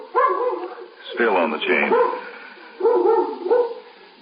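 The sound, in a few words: dog barking in a radio drama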